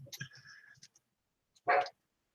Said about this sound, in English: My dog's going yonkers.